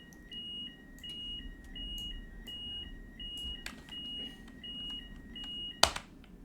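A beeping alarm inside a train cab in Train Simulator on the London Kings Cross to Peterborough line, sounding as a steady run of short, evenly spaced electronic beeps in two alternating tones, ending with a brief louder click.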